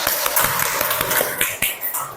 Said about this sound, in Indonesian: Tuh, tepuk tangan dulu.